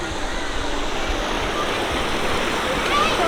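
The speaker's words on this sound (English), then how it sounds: "We're heading towards the waterfall right now." Steady broadband rush of a Cambodian jungle waterfall heard from a short distance on a trek, a constant even roar with no breaks and faint low rumble underneath.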